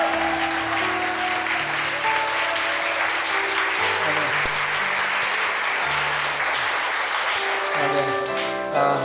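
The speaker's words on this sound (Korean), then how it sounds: "우리 하나님께 가장 큰 박수 영광 드립니다" Loud, sustained applause from a large congregation at a Wednesday church service fills the whole stretch, with steady dense clapping and a few tonal music notes sounding underneath.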